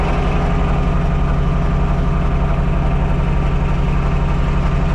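Tractor engine running steadily on an overgrown property being cleared with a brush hog, a loud, constant low rumble with an even throb and no talking.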